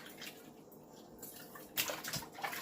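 Turkey wings are washed with a whole lemon under running water, producing faint splashing and trickling with a few louder sloshes and drips toward the end.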